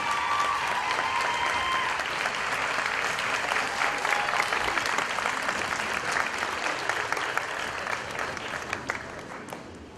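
An audience at an eighth grade school recognition ceremony claps for a student, a dense, sustained burst of applause from a large crowd that holds steady for about ten seconds before starting to thin out.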